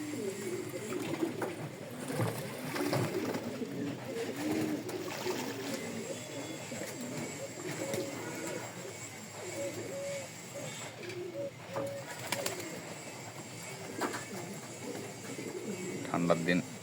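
Male pigeons bathing after a flight coo in soft, repeated low calls nearby, with faint splashing and rustling and some background chatter, and voices talking at times.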